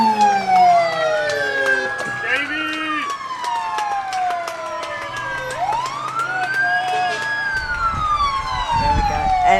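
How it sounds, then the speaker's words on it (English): Fire department sirens sound during a Fourth of July parade, rising and falling wails sweeping loudly over one another, with a lower rumble and crowd noise underneath near the end. "And the only time I want to hear their sirens is in the parade."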